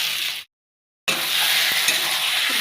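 Fried potato and pointed gourd tossed into a spiced pan of tomato, salt, sugar, chilli and turmeric, giving a steady loud sizzle broken by a brief silent gap, with stirring scrapes and a light utensil clink.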